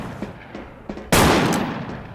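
Video game gunfire in Wolfteam: faint distant pops early on, then one loud close burst of shooting that rings out and trails off.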